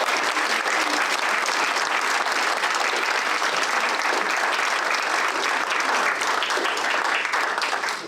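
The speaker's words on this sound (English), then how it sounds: "Another round of applause for these two." A city council chamber audience gives a sustained round of applause, many hands clapping evenly and loudly throughout, with faint voices underneath.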